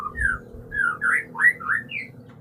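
A nearby bird, in a home with a white-rumped shama, sings a run of short rising and falling whistled chirps, clear and close over a low background hum.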